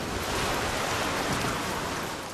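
Steady rain in BioShock Infinite, an even, continuous hiss of falling water with no pauses and no voices.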